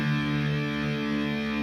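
Electric guitar with its low string tuned down a full step to D, ringing as one sustained low note with a distorted, buzzy tone, close and alone.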